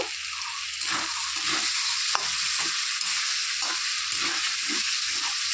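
Tomatoes and spices frying in a pan for vegetarian aloo dum with local potatoes, a continuous loud sizzle with rhythmic stirring pulses and one brief metallic clink.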